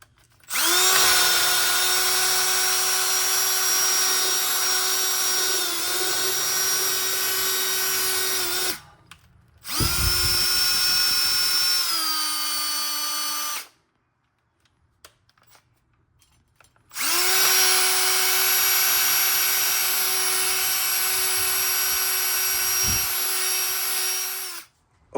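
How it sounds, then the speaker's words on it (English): A drill-driven hub cleaning tool grinds rust off a Honda wheel hub, a loud high whining motor in three long sustained bursts separated by short pauses and brief silence. "You can see the witness marks from the hub cleaning tool"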